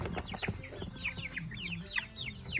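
Three-week-old Cornish Cross meat chickens cluck and peep steadily in a brooder, with soft low clucks and repeated high chirps overlapping throughout, close and moderately loud with no talking.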